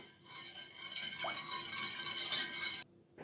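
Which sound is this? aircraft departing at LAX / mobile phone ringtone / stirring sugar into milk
stirring sugar into milk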